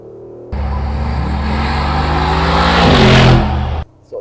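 A 2021 Mercedes-AMG G63 V8 revs hard as it accelerates through the gears in manual mode, with a loud close engine roar climbing in pitch, a brief shift, then cutting off abruptly.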